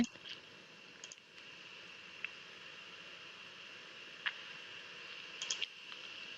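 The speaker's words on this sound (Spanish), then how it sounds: "Y damos clic en OK" A computer mouse gives several faint, scattered clicks against a quiet hiss of room noise.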